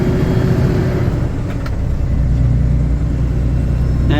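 An 18-speed Road Ranger truck accelerates near the top of a hill, its heavy diesel engine rumbling loud and close, the pitch shifting as revs build, with a brief rattle partway through.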